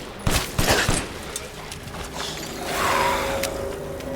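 A few sharp gunshot bursts early on, then a steadier rattling mechanical noise with a rising whine, loud and close, from the video game Resident Evil Village.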